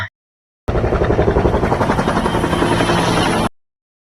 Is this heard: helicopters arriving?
yes